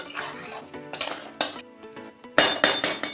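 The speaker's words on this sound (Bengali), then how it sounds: "এবার এই মশলাটাকে ভালো করে কষিয়ে নেব" A metal spoon scrapes and clinks against a pan while spice paste of chili and ginger is stirred and fried in ghee, producing irregular bursts of clattering close up.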